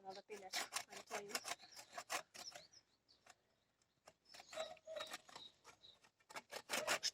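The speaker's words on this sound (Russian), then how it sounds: "Что плохо как-то пилится." A hand saw cutting wood for a campfire, with quick rasping strokes in uneven bursts, pausing midway before resuming, close and fairly quiet.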